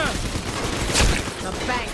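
Gunfire rattles in BioShock 2 as a burst of shots over dense low rumble, with one heavier blast in the middle. Shouting voices are heard alongside.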